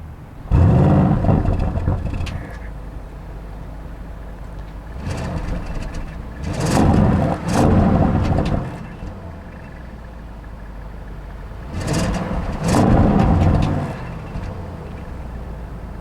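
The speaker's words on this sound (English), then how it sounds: "let's go ahead and take a listen since we have the sport exhaust." A 2021 Audi RS6 Avant, a 600 hp wagon with sport exhaust, idles with a low rumble broken by three sharp throttle blips, each revving loudly and dropping back to a steady idle.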